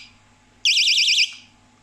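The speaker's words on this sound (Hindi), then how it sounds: "जैसे ही दरवाज़ा खुलेगा तो ये बोलना शुरू कर देगी।" A small door-opening alarm gadget sounds a brief, loud warbling electronic siren for about half a second, then stops abruptly, leaving a faint hum.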